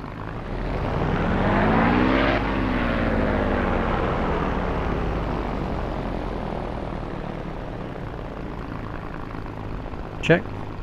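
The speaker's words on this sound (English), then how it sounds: "With mixture set to run, advance the throttle from idle to 2300 RPM." A P-51D Mustang piston engine in the DCS flight simulator is throttled up from idle to 2300 RPM, a loud propeller drone that swells and then holds steady, with a brief sharp click near the end.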